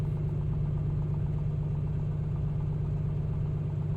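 A Piper Comanche engine idles in the A2A flight simulator, giving a steady, even low drone with a constant throbbing hum that runs unchanged throughout, with no voices.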